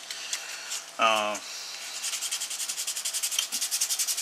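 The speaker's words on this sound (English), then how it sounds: "now it's down to hand sanding and contouring" Hand sanding on a workpiece gives a steady back-and-forth rasp in quick rhythmic strokes, close and clear, after a brief voice early on.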